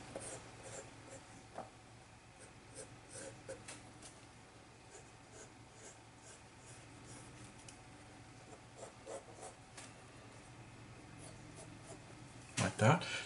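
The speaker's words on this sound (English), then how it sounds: "sketch it out and then maybe a sharper pencil line" Pencil sketching on paper while drawing a male figure, a soft steady scratching and rubbing of graphite close by with light strokes throughout and a louder scrape near the end.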